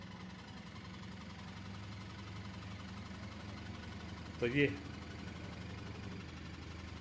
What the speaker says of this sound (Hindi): ये मशीन थोड़ी सी वाइब्रेट भी करती है, और इसमें जो है ये नॉर्मली स्पिन कर रहा है, और स्पिनिंग में जो है थोड़ी आवाज़ भी ज़्यादा आती है